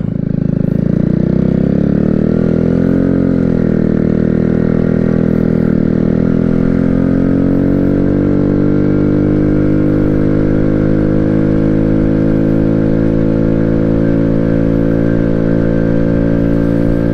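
A warmed-up Amstar Nostalgia 50cc scooter with its choke fully open drones loudly and steadily close by, its small engine's pitch lifting slightly as it launches slowly in first gear and then holding an even buzz.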